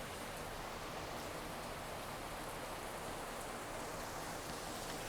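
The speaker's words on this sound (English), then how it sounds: "Well, okay, it's raining bad." Heavy rain pouring down outdoors, a dense, even hiss of falling water that stays steady and unbroken, with no voices.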